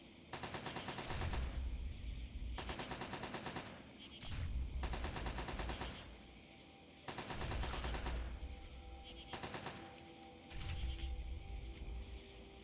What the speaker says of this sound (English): now the turret is frenzied and shooting the Reaver